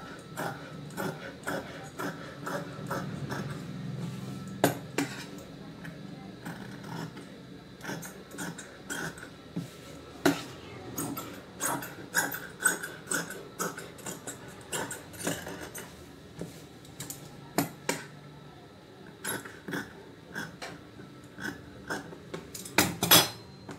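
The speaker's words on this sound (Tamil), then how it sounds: "இப்போ வந்து கழுத்து அளவுக்கு நம்ம அப்படியே லைனை கட் பண்ணிக்கலாம்." Tailoring scissors snip steadily through blouse fabric along the neckline, a long run of dry crisp clicks and crunches close by, uneven in rhythm with short pauses between cuts.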